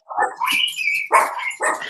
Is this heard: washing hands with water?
no